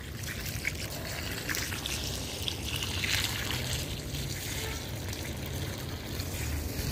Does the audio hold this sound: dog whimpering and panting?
no